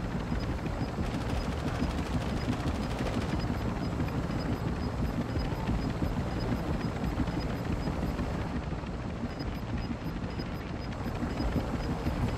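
A helicopter in Warzone 2 gives off a continuous, loud rotor roar with dense mechanical chop that holds steady for the whole stretch, free of talk.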